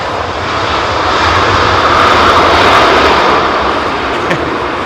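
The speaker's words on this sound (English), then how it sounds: "Raptor X Aer Lingus 320 from Cork." An Aer Lingus Airbus A320 from Cork lands at London Heathrow, its jet engines producing a loud, steady roar that swells in the middle and holds throughout, with no voices.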